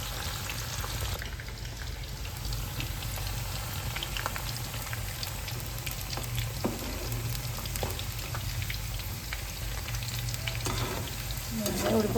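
Jackfruit curry masala fries in a pan with a steady crackling sizzle and occasional stirring, close and even in volume throughout, with no voices.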